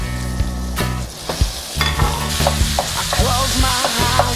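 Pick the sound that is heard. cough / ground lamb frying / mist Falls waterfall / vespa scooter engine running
ground lamb frying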